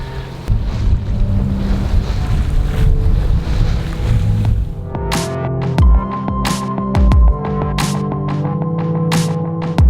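Wind and water rush past a small sailing boat crossing open sea at night, with loud, steady wave wash and buffeting gusts, then sharper slaps of water against the hull in the second half.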